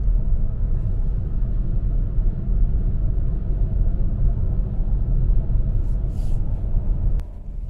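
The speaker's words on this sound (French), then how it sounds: "On est à 110 km/h sur l'autoroute et la voiture est extrêmement silencieuse," Cabin of a Hyundai Tucson Hybrid cruising at 110 km/h on a highway, a steady low rumble of road and wind noise with a faint click near the end.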